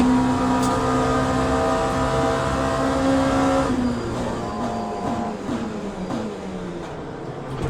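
An LMP2 prototype race car's engine in the sim racing game Le Mans Ultimate at Monza, loud and continuous with a steady high drone, then shifting down through falling pitch sweeps as it brakes and changes gear.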